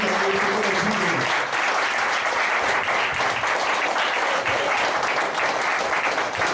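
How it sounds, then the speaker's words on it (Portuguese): Members of a Baptist congregation gathered for a home service clap together in a loud, sustained round of applause, the crowded patter holding steady throughout with a brief tonal sound near the start. "Gostaria que mais uma vez você aplaudisse o nome do Senhor"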